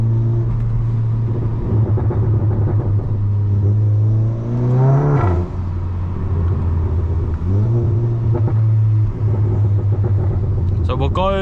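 A stage 2 VW Golf MK7.5 GTI drives through a town centre at night, its engine droning steadily, then rising in pitch through revs and gear changes, with exhaust rumble and a voice talking over it.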